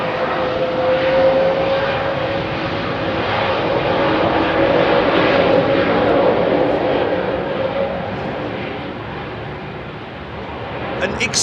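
Loud Pratt & Whitney jet engines of a Cathay Cargo Boeing 747-8 freighter spooling up for departure at London Heathrow, a broad roar carrying a sustained howling tone that swells and eases over several seconds.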